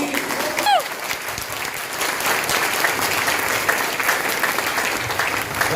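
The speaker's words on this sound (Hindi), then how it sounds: "ताली को ठोको भाई" Sustained crowd applause, dense and steady clapping from a large audience throughout, with a faint voice briefly audible near the start.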